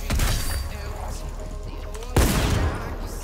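Gunfire in a battle royale video game, a burst of game shots with a loud sharp blast near the two-second mark, under lively background sound.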